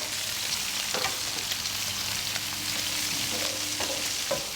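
Sliced sweet onions sizzle steadily in oil on a Pit Boss griddle, a continuous close crackling hiss with a few faint scrapes and taps, no voices.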